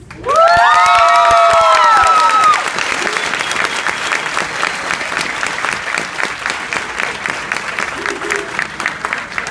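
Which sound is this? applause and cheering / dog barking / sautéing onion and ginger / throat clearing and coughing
applause and cheering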